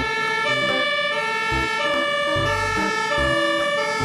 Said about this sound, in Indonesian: Wih, ada mobil pemadam kebakaran.